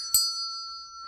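A handheld notification bell is struck once, with a sharp metallic strike followed by a steady, pure ringing tone that sustains and slowly fades, heard alone and fairly quiet.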